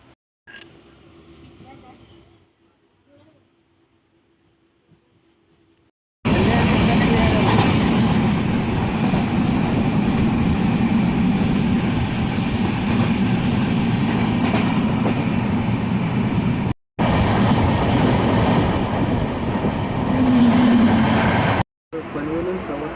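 A Konkan Railway passenger train runs loudly after a quiet opening, with a steady rumbling roar and rattle that continues close by with only brief breaks.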